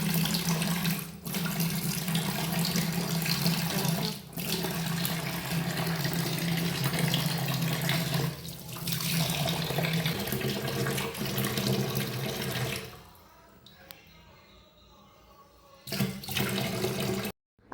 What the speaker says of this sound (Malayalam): ഇനി നമുക്ക് പൈപ്പ് ഒന്ന് കഴുകിയെടുക്കാം